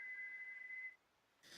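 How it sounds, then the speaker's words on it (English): A long, drawn-out whistle from the video game Punishing Gray Raven holds a single steady high tone for just under a second, fairly faint, then cuts off before a brief burst of noise. "A long, drawn-out whistle echoes from somewhere beyond the crowd's vision."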